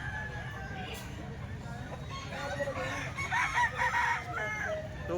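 Roosters and chickens offered for sale, with a crowing call and scattered clucks nearby over a low background murmur of voices and outdoor noise.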